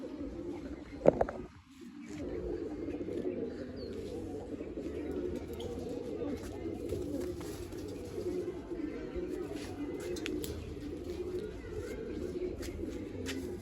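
Black-necked white pigeons coo in a soft, low, continuous burble throughout, with a short thump near the start.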